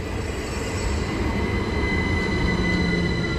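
A Class 375 electric train, unit 375 922 in Pride livery, rolling through an East Sussex station with steady wheel rumble and a faint, sustained high squeal, loud and close, no voices.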